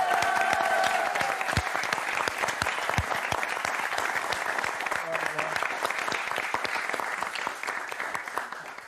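Sustained, dense applause from a television studio audience on the final episode of the French game show Motus, loud and steady throughout the nine seconds with a slight easing at the end; voices murmur faintly underneath.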